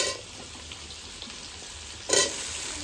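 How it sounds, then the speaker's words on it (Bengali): Pumpkin and potato fry in a pan with a soft, steady sizzle. A brief louder burst of stirring or scraping comes near the end. No one speaks. "মিষ্টি কুমড়া আলু একটু ভাজা ভাজা হয়ে গেছে"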